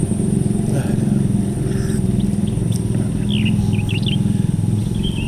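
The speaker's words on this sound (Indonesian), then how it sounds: "Lu denger nggak sih itu suara Burung" Birds chirp in short scattered calls in the morning at the foot of Mount Merapi in Java, over a steady rumble of a nearby engine, with no talking.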